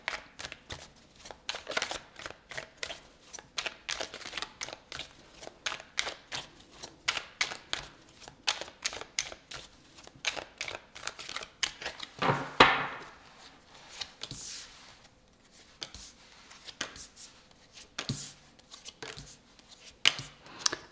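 Tarot cards are shuffled for a reading in quick, papery riffles and soft slaps that repeat close by through the whole stretch, with one louder riffle partway through.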